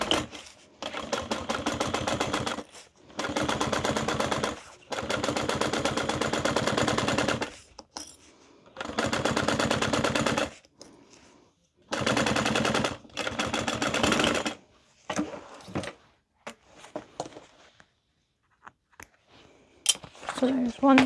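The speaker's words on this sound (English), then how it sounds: "And now we're gonna sew those together" A sewing machine stitches tote bag pieces together in several sustained runs of rapid mechanical whirring, separated by short pauses, then quieter handling noises near the end.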